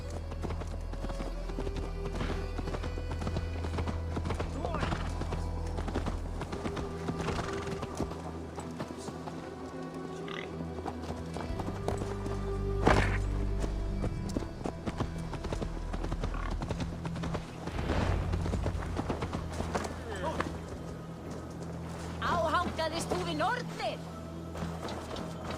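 Horse hooves clip-clop on ground in Assassin's Creed Valhalla, a steady walking rhythm under game music and ambient sound, with occasional louder thuds and a brief whinny-like sound.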